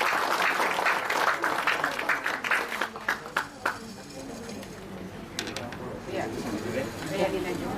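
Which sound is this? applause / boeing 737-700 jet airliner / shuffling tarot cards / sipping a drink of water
applause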